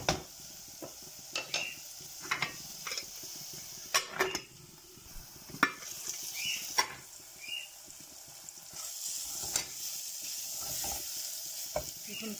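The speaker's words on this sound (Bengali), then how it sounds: "সুন্দর করে লাড়াচড়া করিয়া চিংড়ি মাছগুলো কষাইবো" Shrimp sizzle in a hot pan while a spoon stirs and scrapes them through a tomato dish, with irregular clinks of metal on the pan over a steady frying hiss, close by and without talk.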